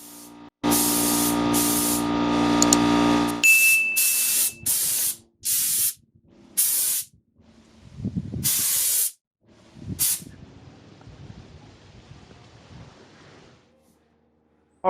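Spray gun applying base coat to car hood hinges from a 2004 Infiniti G35X, with a long loud hiss followed by a series of short, sharp spray bursts separated by pauses, close up.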